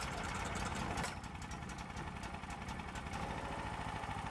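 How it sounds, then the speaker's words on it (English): A Predator 420cc gasoline engine on a dual-engine golf cart running steadily after a pull-start, a low, continuous, rough chugging close by at moderate volume. "The 420cc Hemi Big Block is live once again."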